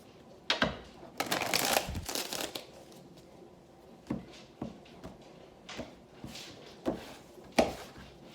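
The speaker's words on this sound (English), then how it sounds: "Let's shuffle." A new, slippery deck of tarot cards is shuffled by hand. The riffles and slides come in short, crisp bursts with a few gaps between them, close and fairly quiet, and no talking is heard.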